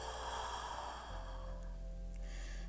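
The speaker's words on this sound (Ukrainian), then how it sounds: "Вдих через ніс, видих через рот" Slow calm breathing during a guided relaxation meditation, an inhale through the nose followed by an exhale through the mouth, close and soft over a steady low background hum.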